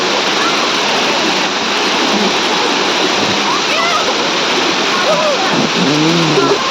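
Spring water at Nagve spring in Goa gushes and pours in a loud, continuous roar close by, with faint voices in the background.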